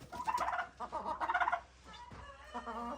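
Farm turkeys gobble in rapid warbling bursts, two main calls followed by a softer one, close by with no voices.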